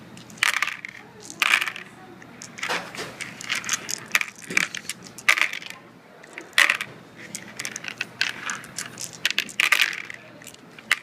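Handfuls of dice for one-roll Yahtzee rattling and clattering onto a surface in repeated bursts, each a quick cascade of hard clicks, close and fairly loud, recurring every second or so.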